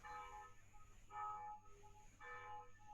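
Church bell ringing from a church right next door, heard indoors as harmonic tolls in three swells over a steady background hum, fairly near and moderately loud, with no talking.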